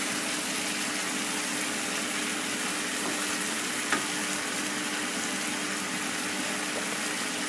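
Lamb with baby corn and potatoes sizzling in a pan while being stirred, a steady dense frying hiss throughout with a few faint scraping clicks from the stirring.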